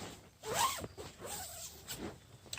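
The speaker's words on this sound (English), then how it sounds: "That double-ended zip is a real bonus." A double-ended zipper on a Naturehike Cloud Peak tent being pulled, one quick rasping zip run followed by softer fabric rustles and short zip movements, close and clear with no talk.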